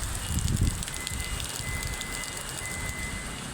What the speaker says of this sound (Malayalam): ഓ മഴ